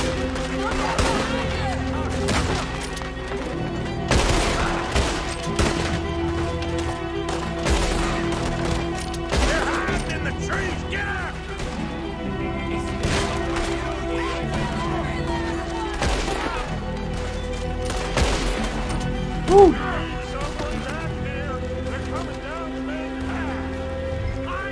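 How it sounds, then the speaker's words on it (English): Gatling gun fire in Red Dead Redemption 2, bursts of rapid gunfire and scattered shots echoing throughout amid other game sounds, with a person talking over the action. "it was a Gatling gun"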